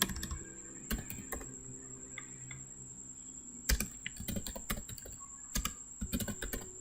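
Someone types JavaScript code on a computer keyboard in quick bursts of sharp clicks, with scattered keystrokes between, close and moderately loud over a faint steady background hum.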